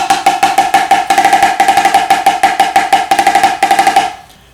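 A snare or practice pad plays a fast, steady stream of strokes grouped in threes, with quick doubled bounces, loud and close, ending with a short ring-out.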